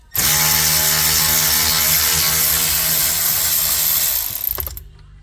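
Ratchet working a dashboard bolt loose inside a Range Rover Sport HSE in a tight space, a continuous loud buzzing mechanical run for about four seconds that then cuts off.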